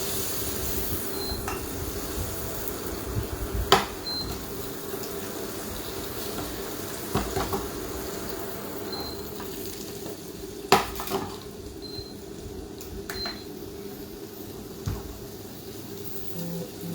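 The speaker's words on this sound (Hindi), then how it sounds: "गार्लिक को टिके भले से फ्राई कर नबा।" Chopped garlic and ginger frying in hot butter in a home-kitchen pan, a steady soft sizzle with occasional utensil clinks and stirring scrapes, no talking.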